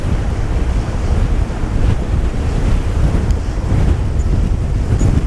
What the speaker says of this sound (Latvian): vilni!